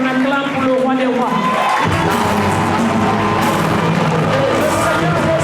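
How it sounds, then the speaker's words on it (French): A church congregation at a revival service for Rev. Cécile Okafor erupts into loud, sustained cheering and acclaiming, a dense crowd roar of shouts and whoops that swells after a brief build and holds steady throughout. "voudrais qu'on acclame pour le roi des rois"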